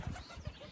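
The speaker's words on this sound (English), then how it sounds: "We've got pigeons." Pigeons cooing among a flock of birds, including pukeko, at a busy outdoor feeding spot in New Zealand; two soft, low coos stand out over a murmur of background sound.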